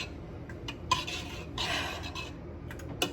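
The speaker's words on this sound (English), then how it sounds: "So I'm just mixing the milk" Milk being stirred in a pot: soft scraping and occasional light clinks of a utensil against the pot, quiet and close, irregular strokes with no talk.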